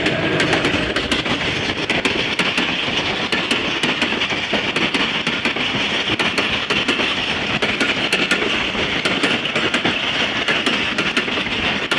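Loud, steady rumble and rhythmic clickety-clack of an eight-coach passenger train hauled by a locomotive at about 65 km/h, heard from the cab, with sharp wheel-on-rail knocks running throughout and no voices.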